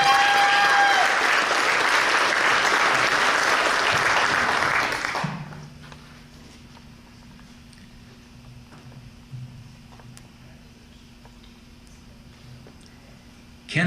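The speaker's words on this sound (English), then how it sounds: "round of applause" Applause from an audience at a firefighter academy graduation fills the first five seconds, then stops abruptly, leaving a quiet room with faint hum and small noises.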